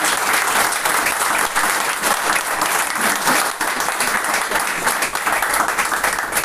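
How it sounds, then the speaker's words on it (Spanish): Church congregation giving a loud, sustained round of applause, dense steady clapping from many hands filling the room for several seconds. "Denle un fuerte aplauso al Señor"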